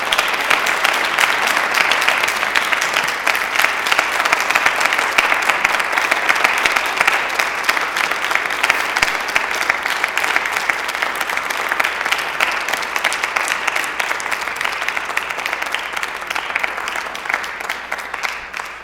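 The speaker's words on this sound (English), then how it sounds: "can we get a round of applause for" An audience at a special chapel program gives a guest speaker a long, steady round of applause, dense and even for nearly twenty seconds.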